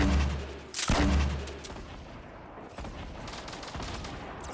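Shotgun fire in a Fortnite duos match: one loud close blast, then fainter shots and crackling gunfire from a firefight, with no talking.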